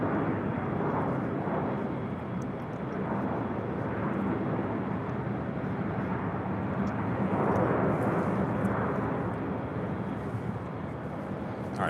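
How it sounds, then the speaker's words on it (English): Boeing 777 rolling down runway 25 right at LAX on departure, a steady loud jet roar that swells slightly toward the middle, heard from a distance with wind buffeting the microphone. "All right, we got that 777 now rolling down 25 right."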